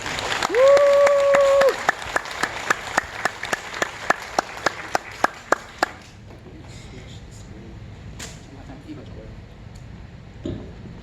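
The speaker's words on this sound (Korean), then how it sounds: "예, 크게 박수를 환영해 주시기 바랍니다." In a hospital church, an audience gives a brief welcoming burst of applause that thins into a dozen sharp, separate claps, preceded by a held tone and followed by quiet room noise with faint talk.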